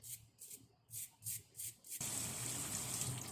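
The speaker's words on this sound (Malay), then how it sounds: "Dah siap, cuci lagi dengan air bersih." Cockles are rinsed under running tap water, first in short rhythmic splashing bursts as the shells are rubbed, then as a steady, loud unbroken stream.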